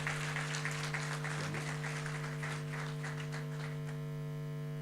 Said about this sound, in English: give them applause